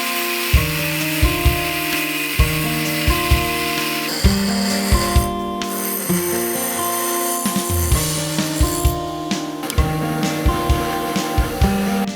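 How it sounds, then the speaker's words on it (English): An angle grinder cuts a steel knife blank in repeated bursts: a loud whine starts, runs for a second or two, drops out and starts again, with short sharp clicks between cuts. "I'm gonna cut it out with the"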